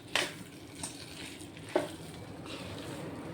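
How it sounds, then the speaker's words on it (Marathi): Khoa, or milk solids, sizzles softly as it is sautéed in a pan, with a couple of scraping stirs of a spoon against the metal over a low, steady frying hiss. "आपण या खव्याला आता परतून घेऊया"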